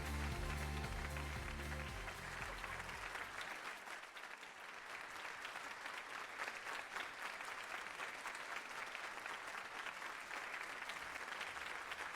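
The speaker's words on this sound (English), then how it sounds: "Give yourselves a round of applause." Sustained applause from a crowd at a teaching awards ceremony, dense and steady throughout, with a brief musical tone at the start fading under the clapping.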